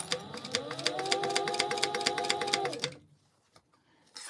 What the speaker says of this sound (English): Feels awkward to sew like down this side.